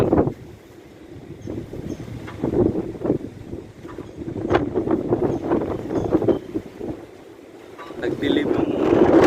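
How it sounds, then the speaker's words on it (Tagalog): Strong wind of an approaching desert sandstorm in Saudi Arabia buffets the microphone in uneven rumbling gusts, loud and close, with someone speaking through it. "Sobrang lakas ng hangin."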